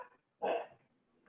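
A single short dog bark sounds in the background, faint and somewhat distant, with quiet stretches around it.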